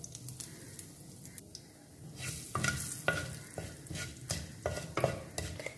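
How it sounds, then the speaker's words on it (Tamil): Mustard seeds spluttering in hot oil for a tempering, with sharp pops and crackles at irregular intervals over a low sizzle that builds louder partway through; no voices. "கடுகு நல்லா பொரிய ஆரம்பிக்குது."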